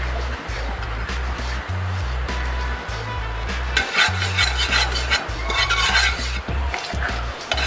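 A pan is stirred on a stove while cooking Kannur kalathappam, giving a steady run of scraping, rubbing strokes with faint metallic clinks, close and continuous against a low background hum.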